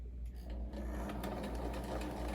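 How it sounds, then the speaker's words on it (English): A sewing machine running close and steady as it back-stitches a pocket seam on a crochet babydoll dress, a continuous rapid mechanical whir. "do a back stitch off of that pocket, and then I'm going to continue a straight stitch down the whole length of the pocket"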